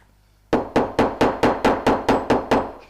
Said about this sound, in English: use a dome-headed hammer